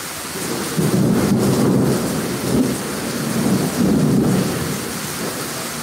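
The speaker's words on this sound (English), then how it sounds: "And we're definitely getting some rain right now." Heavy thunderstorm rain in Moore, Oklahoma pours steadily and loudly, close by, with low rumbling swells of thunder rolling through it and no talking.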